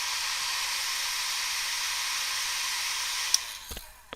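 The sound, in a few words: drying a watercolor wash, likely with a hair dryer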